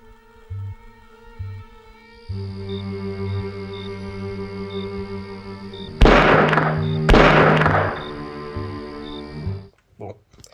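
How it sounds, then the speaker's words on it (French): Two sharp loud bangs about a second apart ring out over a sustained droning background, followed by a brief muffled noise near the end. "Je viens d'entendre des coups de feu."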